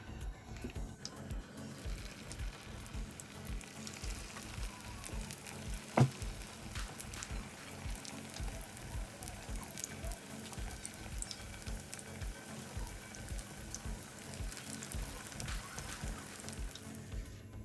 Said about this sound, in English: So this I'm going to be frying all the remaining accara.